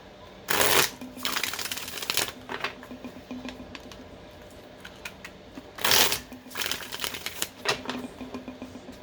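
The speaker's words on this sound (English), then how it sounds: "All right, one more shuffle." Tarot cards are shuffled in two sharp, crisp riffles, each followed by a stretch of rapid light card flicks and taps close up, with no talk over them.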